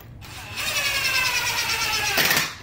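An impact driver runs screws into the wooden frame of a twin-over-full bunk bed during assembly, giving a sustained close whir of about two seconds that ends in a louder final burst.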